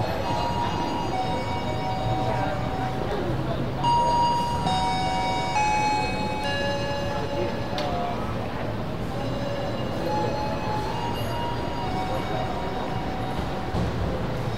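A Harina Ekonomi Premium passenger train on the Semarang Tawang to Bandung line gives a steady rolling rumble, with faint tonal chimes or whistles rising and fading over it.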